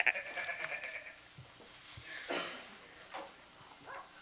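A person imitates a goat, letting out a few bleating cries during a municipal economic development committee meeting; the wavering calls stand out over a quiet room with faint background noise.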